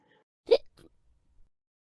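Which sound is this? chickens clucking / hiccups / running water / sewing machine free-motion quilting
hiccups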